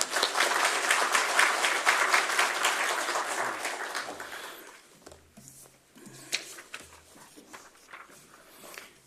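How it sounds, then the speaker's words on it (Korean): A church congregation at a thanksgiving service claps in welcome, a full round of applause for about four seconds that thins out into scattered claps and quiet movement. "감사의 박수로 환영하겠습니다."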